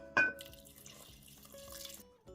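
Water pours into a multicooker pot for pumpkin millet porridge, a short splash followed by a steady thin trickle that stops near the end, quiet and close.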